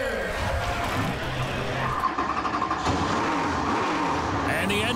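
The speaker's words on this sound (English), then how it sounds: "the engines come to life as we prepare for 300 hard-fought laps" Stock cars in the 2016 NASCAR Pinty's Series Leland 300 at Sunset Speedway, Innisfil, fire up, their engines a loud, continuous roar and rumble that swells and wavers, with an announcer talking over the noise.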